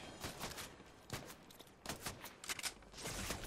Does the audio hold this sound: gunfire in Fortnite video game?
yes